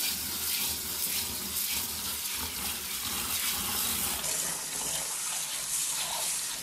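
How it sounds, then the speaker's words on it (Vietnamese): Mung beans are rinsed under a steady, gushing stream of tap water into a sink, a continuous close splashing rush with no voices. "Đậu xanh thì mình sẽ đem đi vo rửa cho nó thật là sạch."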